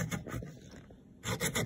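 Sandpaper glued to a popsicle stick rubs against wood in a tight spot, giving soft rasping strokes that stop briefly in the middle and resume, close and quiet.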